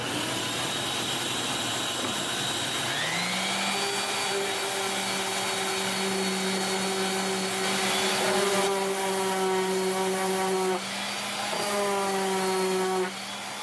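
A loud, continuous motorized whine with shifting pitch, like a power sander running against wood, steady throughout with no voices.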